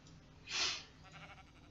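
A sheep in a video game lets out a single short bleat, close and clear against a quiet background.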